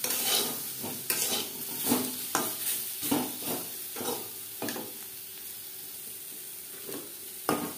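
Bitter gourd slices fry in oil with turmeric and salt, a steady close sizzle with repeated scraping stirs of a spatula against the pan, no talk.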